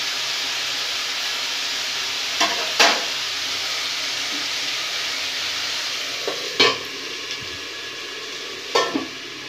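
Mixed vegetables with ginger sizzle steadily in a pan for an Indian Bengali-style sabzi, a constant frying hiss broken by a few clanks of a spoon or lid.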